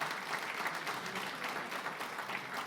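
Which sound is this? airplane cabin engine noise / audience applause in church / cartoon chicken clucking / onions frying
audience applause in church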